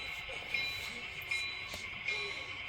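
A model train sounds three short, faint horn toots over a steady running hum during a layout operating session.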